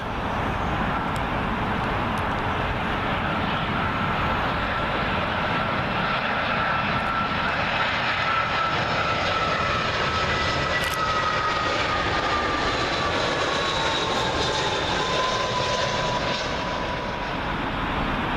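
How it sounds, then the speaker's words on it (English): A British Airways Airbus A319 on final approach to Heathrow runway 27L, arriving from Milan, gives a continuous loud jet rumble and roar with a faint high whine sliding through it, steady from start to finish. "Next up, British Airways A319. This one arriving in from Milan."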